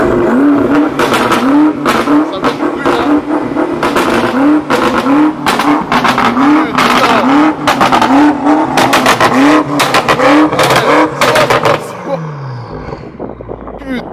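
A BMW M8 with 850 hp revving hard and repeatedly, its loud engine rising and falling in rapid cycles close by with sharp crackles, before dropping away and fading near the end; voices are heard under the engine.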